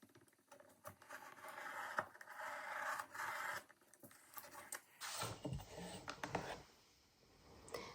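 Cutting cover panels from board for a handmade junk journal hard cover: a few scraping, rasping strokes and taps, quiet and close, followed by a busier stretch of rubbing and handling noise.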